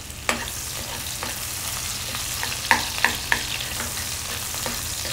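Chopped onion, about a third of a cup, fries in hot oil in a pan with a steady hiss while a spatula stirs it, giving a few brief scraping knocks near the middle, with no talk.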